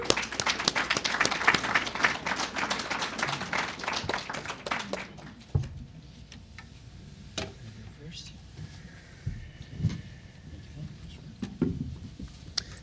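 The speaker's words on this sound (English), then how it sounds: "Yeah, let's give them a round of applause." Audience applause for panelists at a legal tech livestream event, a burst of clapping for about five seconds that stops, followed by quiet room noise and a few scattered sounds.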